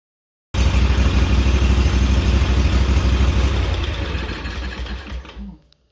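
A Kawasaki small engine, just after carburetor cleaning, starts abruptly and runs loud and close with a fast chugging beat, then its level sags and wavers in a slight surge before it dies away.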